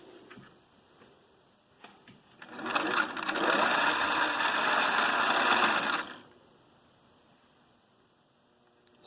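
A Singer 347 sewing machine runs a zigzag stitch for about four seconds, a loud close steady mechanical whir with rapid ticking, bracketed by quiet handling clicks.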